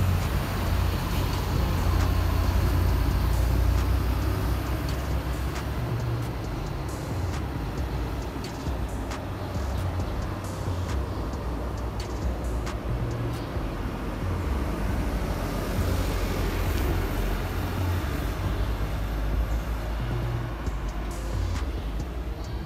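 Buses pull into and out of a city bus terminal in Padang, West Sumatra, giving a steady, loud low engine rumble and traffic drone that continues throughout with no talk.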